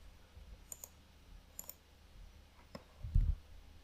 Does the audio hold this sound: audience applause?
no